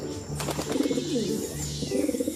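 Pigeon cooing used as a story sound effect, repeated soft throaty coos in a steady rhythm, close and clear with no talk over it.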